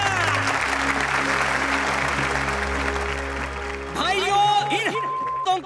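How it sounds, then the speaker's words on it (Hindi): Audience applause at a speech to Mumbai mill workers, dense steady clapping that runs for several seconds, then gives way to a hum and shouted voices near the end. "तालियां।"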